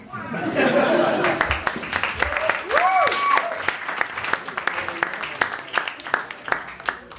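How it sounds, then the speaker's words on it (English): Wedding guests clap during a best man speech, loose applause that thins into scattered individual claps, with laughter and chatter mixed in and a voice briefly calling out. "Stop clapping after a while, this goes on."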